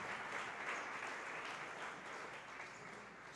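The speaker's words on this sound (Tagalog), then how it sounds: "pumalakpak ng malakas sa ating mahal na Panginoon" A church congregation at a preaching service applauds loudly, producing a dense, sustained wash of clapping from many hands with no break.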